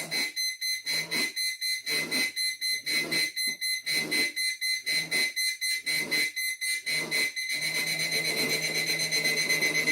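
A liquid level indicator for blind users beeps in rapid pulsed bursts as milk is poured into a cup of coffee, then switches to a continuous higher warbling tone, loud and close with no talking.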